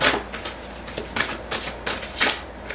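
Tarot cards being shuffled by hand, a run of quick riffling bursts in close succession, near and fairly crisp with no talk over them.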